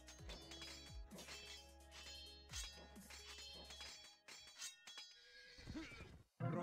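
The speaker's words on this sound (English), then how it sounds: "I have a horse for Rodrigo in my stable." A horse neighs in the video game Age of Empires II. Loud whinnies and clinking sounds play over a background of game music and effects.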